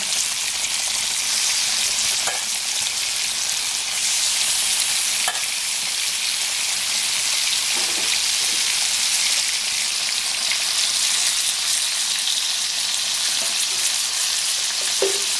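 Fish frying in a pan in a home kitchen, a dense, continuous sizzle, loud and close, with faint occasional clicks and no talk.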